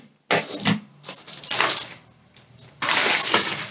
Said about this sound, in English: Cutting the wrapper.